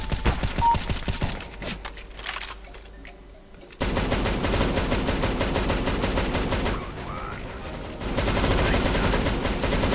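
Gunfire in a Counter-Strike: Global Offensive deathmatch, loud, dense bursts of rapid shots that run almost continuously, with a brief quieter stretch before heavy firing resumes, and no voices.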